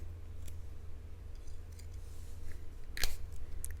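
A budget Eafengrow EF141 fixed-blade combat knife cuts through a plastic zip tie. Faint handling rustles lead up to a single crisp snap near the end, then a brief light click.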